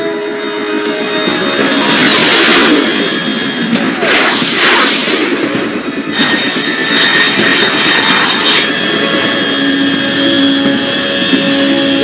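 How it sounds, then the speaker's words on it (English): A fast aircraft streaks overhead in Metal Gear Solid 3, making a loud, sustained, roaring jet rush that swells and holds for several seconds, with engine whine and rumble and no voices over it. "Unidentified aircraft detected."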